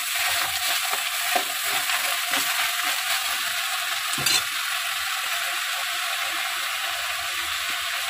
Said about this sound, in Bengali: এটাকে আমি খুন্তি ভালো করে বসিয়ে